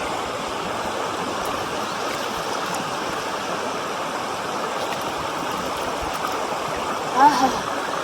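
Spring-fed water flows steadily in a stream beside a river, a continuous close rushing and gurgling that fills the whole stretch with no pauses.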